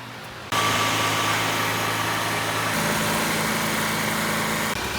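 A Scag lawn mower engine cranks over and catches, then runs steadily at close range with a loud, even drone and a slight shift in pitch partway through, no voices over it.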